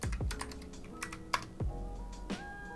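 Python code being entered on a computer keyboard: quick, uneven clusters of close, clicky keystrokes with no talking.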